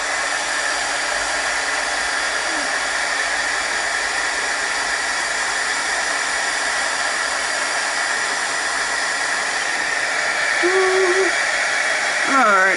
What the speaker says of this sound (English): So I'm going to dry this really quick.